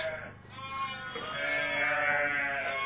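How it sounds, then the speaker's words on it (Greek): Chios dairy sheep from a farm in Rovies, Evia, give close, wavering bleats that overlap into a continuous chorus, with no talking. "χιώτικα πρόβατα, πιστοποιημένα, τα βλέπετε και μόνοι σας."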